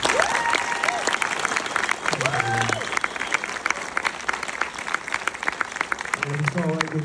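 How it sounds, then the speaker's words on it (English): An audience applauds a film director at a screening event, a continuous wash of clapping with a voice speaking and laughing briefly over it partway through and again near the end. "let's give a round of applause for Osgood Perkins."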